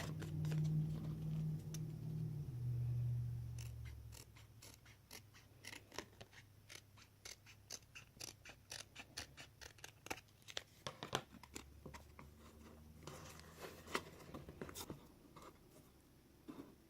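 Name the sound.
cutting the layers of a handmade gift box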